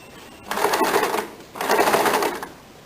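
A sewing machine stitches the lower waist part of a belt in two steady bursts of rapid mechanical whirring, each lasting about a second, close and clear with a short pause between.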